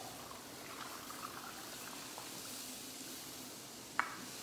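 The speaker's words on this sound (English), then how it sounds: "So that was 6 cups of whole milk" Whole milk poured into gravy in a pan, heard as a faint, steady liquid trickle and bubbling hiss with a brief sharp clink near the end.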